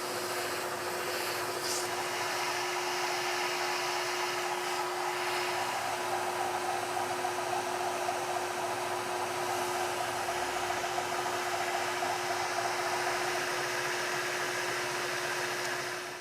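Milling machine roughing a part with a 1/2 inch end mill, a steady loud whirring drone with a constant high tone, unbroken throughout.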